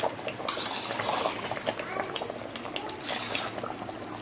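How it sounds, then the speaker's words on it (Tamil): Thick jaggery sweet batter bubbling and simmering in a pot, a steady soft gurgle with small pops throughout, close by. "இதை கொஞ்சம் நேரம் நல்லா கொதிக்க விட்டுணும்."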